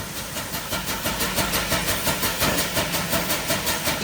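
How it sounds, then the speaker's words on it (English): A wood-burning steam engine at a sawmill chugging in a steady, regular rhythm of puffs, loud and continuous with mechanical clatter underneath. "Here's the wood-burning steam engine."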